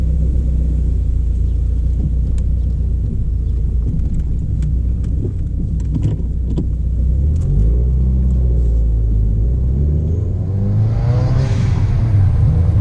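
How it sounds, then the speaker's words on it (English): A Subaru car engine rumbles steadily and loudly, rising in pitch as it accelerates near the end, with road noise throughout. "I figured why not take you guys for a little ride in the Subaru."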